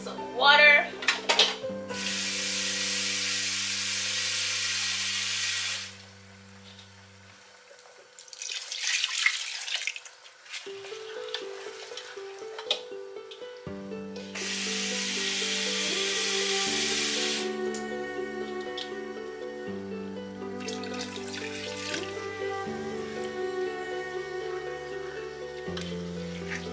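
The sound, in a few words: water poured into hot pot of jollof rice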